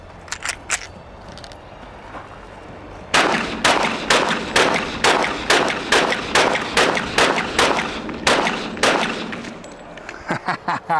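An FN 545 pistol is fired outdoors in a rapid string of about a dozen sharp, loud, close shots at a steady pace, preceded by a few fainter shots and followed by a quieter burst.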